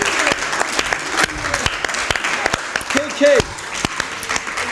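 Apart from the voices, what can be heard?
audience applause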